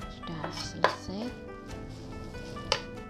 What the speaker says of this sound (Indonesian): lalu kita cincang ya teman-teman